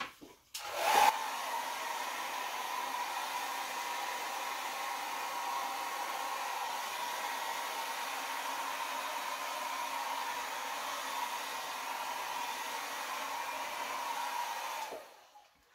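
Hair dryer blowing acrylic pour paint across a canvas, switched on with a click and running as a steady, moderately loud whir for about fifteen seconds before cutting off, with no speech.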